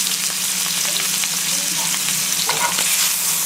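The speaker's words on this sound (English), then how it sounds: "That's our searing process." Beef tenderloin searing in a very hot pan, a loud continuous crackling sizzle close up, steady throughout with no voices.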